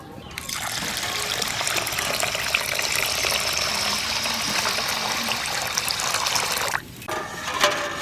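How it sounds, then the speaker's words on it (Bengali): Running water pours steadily over rice and lentils being rinsed before cooking khichuri, a close, continuous trickling gush that breaks off briefly near the end and then resumes with a small splash. "খিচুড়িটা করবার জন্য 500 চাল আর 500 ডাল নিয়েছি, ভালো করে ধুয়ে নেব।"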